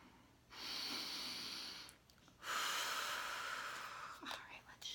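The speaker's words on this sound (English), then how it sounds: "I'm gonna take a few deep breaths." Two long, slow breaths are drawn close to the microphone, each a steady airy rush lasting a second or more, separated by a brief pause, with a few softer sniffs at the end.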